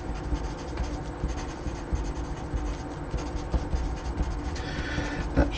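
Pen scratching and rubbing across paper as notes are written by hand, a steady close rasp with small strokes running through the whole stretch, with a louder burst of scraping near the end.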